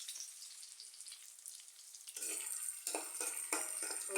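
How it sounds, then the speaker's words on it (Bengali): Onion and garlic frying in oil in a wok: a faint hiss that swells into a louder, bubbling sizzle with uneven bursts, close by and without voices. "আমি এখন এখানে কড়াইতে তেল দিয়ে পেঁয়াজ আর রসুনটাকে ভাজা ভাজা করে নেব"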